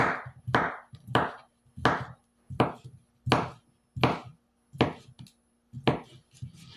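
A handmade custom mini cleaver chops through the last piece of sausage on a board in about ten sharp, evenly spaced thwacks, close and crisp, with no talking.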